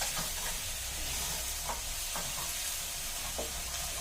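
Onions sizzle steadily in a frying pan for chorizo spaghetti, a continuous broadband crackle with a few brief stirring scrapes, close and alone without talk.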